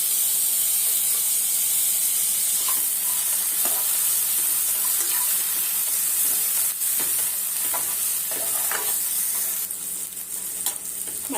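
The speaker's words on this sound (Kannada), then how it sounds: "ಈಗ ಒಂದು ಟೊಮೊಟೊ ಸಣ್ಣ ಕಟ್ ಮಾಡಿ ಇಟ್ಕೊಂಡಿದ್ದೀನಿ ಅದು ಹಾಕ್ತಾ ಇದ್ದೀನಿ" Chopped tomato goes into a pan of red masala mutton chops frying in hot oil. A loud, steady sizzle and hiss runs throughout with faint stirring scrapes, and no voices.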